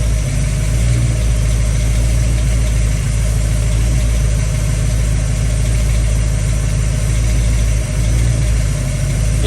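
A car engine idles loudly and steadily up close, with a constant low rumble and drone; any faint lifter ticking is buried in the even engine sound, and no one speaks.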